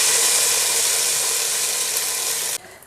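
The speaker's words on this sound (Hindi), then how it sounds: "अभी हम इसको कड़ी के ऊपर डाल देंगे" Hot tadka tempering poured over kadhi crackles and sizzles loudly and steadily up close, then cuts off abruptly near the end as the sizzle dies down.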